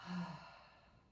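A single slow, soft breath pushed out through an open mouth during a guided yoga breathing exercise, close and quiet, swelling briefly and then trailing off alone.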